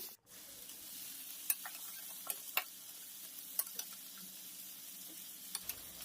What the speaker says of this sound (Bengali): চিকেনগুলো দিয়ে ভালোভাবে এটাকে কষে নেব।